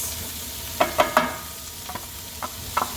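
Broccoli, minced garlic and carrots stir-fry in a pan with a steady soft sizzle, broken by a few clacking strokes of a stirring utensil, close and moderately quiet.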